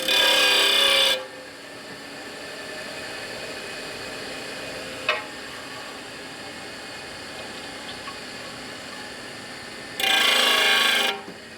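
A part from a 1980 Harley-Davidson FXE Shovelhead 92ci stroker top end is ground in two loud, steady rasping bursts, one at the start and one at the end, with a quiet stretch and a single sharp click between.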